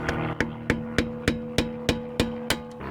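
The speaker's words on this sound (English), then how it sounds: "take a flat screwdriver or a punch and just bend that back out" Steel hammer strikes a punch against a peened axle nut on a 2005-2010 Honda Odyssey passenger-side CV axle, nine sharp, evenly spaced metallic blows with a ringing tone, close and loud with no talking.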